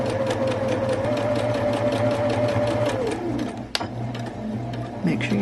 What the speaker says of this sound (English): Make sure you backstitch all the way, and then sew it at a 1/4 inch seam allowance.